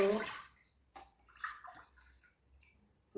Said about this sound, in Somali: waxa yaalo digsi faaruq ah waxaan ku shubanayaa biyo